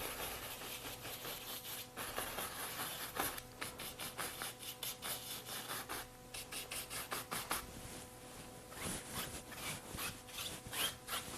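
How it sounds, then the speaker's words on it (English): A fan brush blending sky paint on canvas makes soft, quiet scrubbing strokes in an uneven back-and-forth rhythm, close and faint, with no one speaking. "I'm blending with the fan brush."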